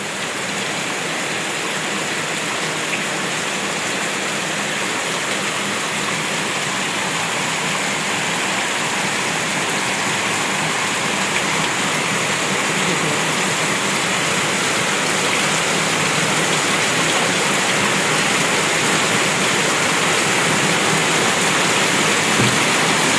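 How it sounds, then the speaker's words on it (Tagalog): Heavy rain pours down on a roof in a dense, steady roar without letup, loud and continuous, with no voices. "Ulan ng ulan po dito sa amin."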